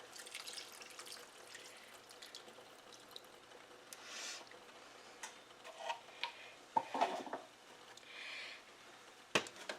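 About 1.25 cups of water trickles and splashes into a pot at a low level, with a few brief clinks and drips scattered through; no one speaks.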